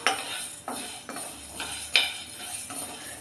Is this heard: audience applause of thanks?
no